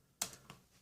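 A pair of quick, light key taps on a computer keyboard, spaced about a third of a second apart, close and quiet against near silence.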